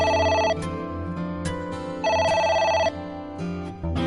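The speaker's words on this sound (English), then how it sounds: "It's the phone. Maybe try picking it up?" A telephone in a video game rings in repeated electronic bursts, a clear tonal trill sounding alone in a steady on-off pattern.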